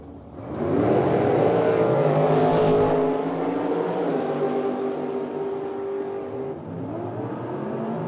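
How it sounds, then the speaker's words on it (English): Two dragsters launch one after the other down a drag strip, a loud engine roar swelling quickly and then fading as the cars race away into the distance. "So the dragster in the right lane will leave first. Dragster in the left lane will then have to chase him down."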